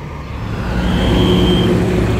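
An MPM Mercedes-Benz Laksana SR3 Panorama coach idles in a restaurant parking lot as it readies to leave. Its close, heavy diesel rumble swells slightly, and a faint high whine rises over it.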